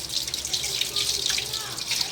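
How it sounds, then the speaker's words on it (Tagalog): Tap water pours into a cooking pot of half-cooked pork for pinakbet, a steady close splashing hiss with bubbling that runs without a break. "Nalagay tayo ng tubig."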